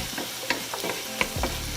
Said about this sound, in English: Stir it, let it cook until the liquid has cooked off.